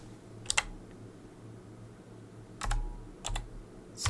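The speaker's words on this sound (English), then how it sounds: "It's harder to type with a single hand, but it's still easier than typing on the screen with a tablet." A computer keyboard gives a few sparse, sharp keystroke clicks in small clusters, close and clear over a quiet background with no talking.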